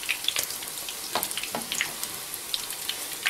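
Onion pancakes (oladyi) frying in a pan, a soft steady sizzle with scattered crackles and pops, close and alone with no voices.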